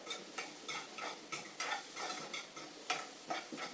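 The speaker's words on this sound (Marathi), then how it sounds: "व्हेजिटेबल्स बारीक बारीक कट करून त्यांना थोडंसं बटर टाकून फ्राय करून घ्यायचं" Finely chopped vegetables fry in a little butter for a kullad pizza, with soft stirring scrapes and a faint, steady sizzle close by and no talking.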